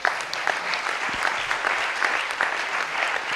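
A church congregation applauds steadily throughout, a dense, even wash of clapping from a crowd with no break.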